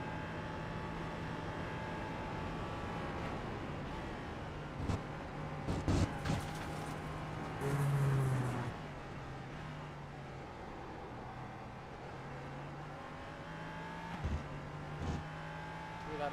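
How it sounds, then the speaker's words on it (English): Race cars in a W12 Sprint Series race revving down the back straight, a steady distant engine drone with occasional louder passes and rising revs, under continuous commentary. "To the back straight again, revving these cars out."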